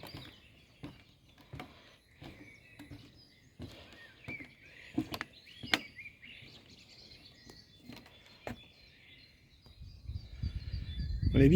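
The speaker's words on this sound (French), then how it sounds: "on écoute les oiseaux." Birds chirp and sing faintly beside a lake in the Vosges, with scattered short calls over a quiet outdoor background. Soft clicks and footstep-like rustles are heard throughout, and a low rumble swells toward the end.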